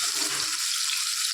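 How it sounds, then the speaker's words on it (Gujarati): Garlic and chillies fry in a hot pan with a steady, close, high sizzle that holds evenly for a moment, with no voices over it. "આપણે પહેલાં લસણ અને મરચાં નાખીશું."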